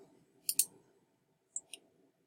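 Computer mouse right-clicking: two pairs of sharp, close clicks, the first pair around half a second in and a second, slightly softer pair a second later, over a quiet low background hum.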